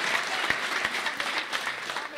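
A church congregation applauding during a prophetic sermon, dense sustained clapping from many hands, moderately loud, with voices mixed in.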